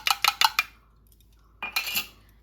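A spoon beats two spoonfuls of sour yogurt into a spice paste in a bowl for a vegetable biryani: four quick, close metallic clinks, a pause, then a brief scraping, clattering burst of whisking.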